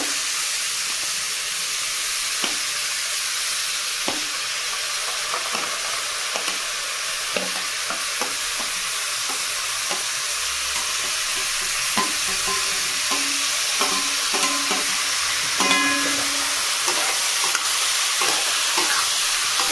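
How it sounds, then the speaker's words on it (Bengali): Mango pickle pieces being stirred and fried in oil in a pan, with a continuous loud sizzle and hiss and repeated spoon scrapes and taps against the pan. "নেড়ে চেড়ে নেব, একটু হালকা নেড়ে চেড়ে নেব, 5 মিনিট মতো একটু ভেজে নেব"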